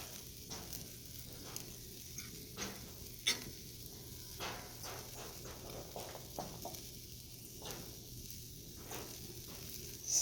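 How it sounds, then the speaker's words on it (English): Steaks sizzle steadily on a grill set over hot coals outdoors on a cold, drizzly day in Texas, a soft continuous hiss and crackle with occasional light clicks and taps. "I'm gonna sizzle me up some steaks pretty good here."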